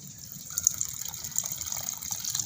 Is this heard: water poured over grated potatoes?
yes